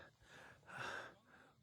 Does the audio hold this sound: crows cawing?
no